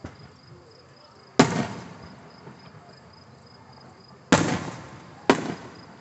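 Fireworks launching outdoors in three sharp bursts spaced a few seconds apart, each a loud crack trailing off into a crackling decay, over a faint steady background hiss.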